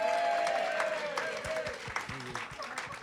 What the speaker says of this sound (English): a big round of applause for Nathan Neuman